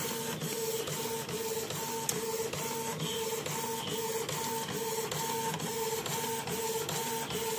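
A Canon iP2770 inkjet printer runs a print pass on PET film, with a steady whirring carriage motor and rhythmic clicking feed mechanism repeating evenly throughout at close range.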